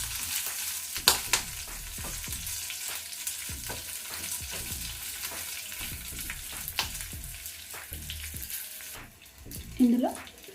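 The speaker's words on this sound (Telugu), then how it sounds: "ఇప్పుడు వీటిని కొంచెం మంచి కలర్ వచ్చే వరకు ఫ్రై చేసుకోవాలి" Cut amla pieces fry in oil, crackling and sizzling with repeated stirring scrapes in an uneven rhythm, close and moderately loud, fading near the end.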